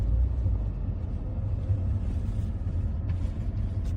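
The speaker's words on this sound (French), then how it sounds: "Allons vérifier le châssis, le bruit du moteur ainsi que l'accélération de la voiture" A 2019 Toyota Auris hybrid estate with 150,000 km hums along on the road, a continuous low engine and road rumble heard from inside the cabin, steady and fairly loud with no talking.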